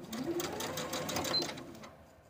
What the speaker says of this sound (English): Now that I have my pleat in place, I'm going to baste it with about a half inch seam allowance.